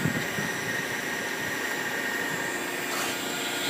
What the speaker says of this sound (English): He's running the spindle right now. You hear it's really nice and quiet.